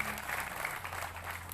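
A crowd applauds at a welcome for the regent at a community gathering, dense clapping filling the short moment at moderate distance.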